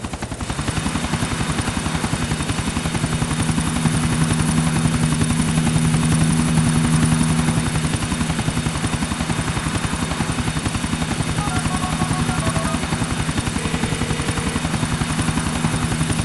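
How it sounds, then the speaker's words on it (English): Steady, loud helicopter rotor thumping and engine whine that continues without a break, like a chopper hovering close overhead in the game GTA IV. "Shut down that chopper for you."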